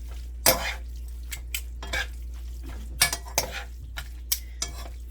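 Beef being stir-fried with perilla oil in a pan, a utensil scraping and clinking against the metal in a series of sharp, irregular strokes over a faint sizzle, close and fairly loud with no talking.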